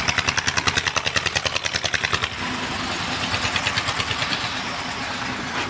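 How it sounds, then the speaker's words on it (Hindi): A Sonalika DI 750 tractor strains while unloading a soil trolley, its diesel engine thudding in a fast, even pulse that shifts partway into a heavier, rougher labored drone, close and loud with no talking. "देख सकते हैं यहाँ पर जो है ट्रैक्टर काफ़ी जान लगा रहा है अपनी।"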